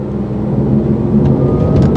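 Muted engine note from a small 3-cylinder sports car, a steady low drone with a slight rise toward the end, fairly loud and continuous with no talk.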